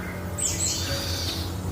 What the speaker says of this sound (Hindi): चिड़िया बीर से कुछ कह रहा था।